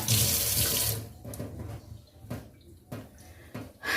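Water runs from a kitchen tap into a freshly unclogged sink, a loud steady splash at first and then broken gushes and trickles up close.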